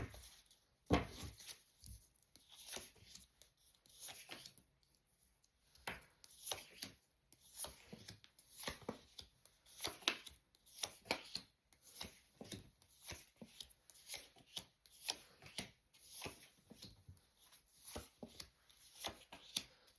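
Tarot cards are shuffled and handled in quick bursts of soft riffling, flicking and tapping, fairly close and quiet, with brief pauses between rounds and no talk.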